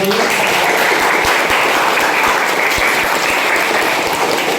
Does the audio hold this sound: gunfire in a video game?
no